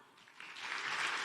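Audience applause at a corporate technology conference, rising from a light patter into steady, full clapping from a large crowd, heard without speech.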